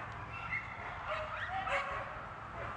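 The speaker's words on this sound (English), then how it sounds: "My neighbor's dogs are starting to bark" Several dogs barking next door, a few yips and barks rising faintly from the distance over a low steady background rumble, with no voices.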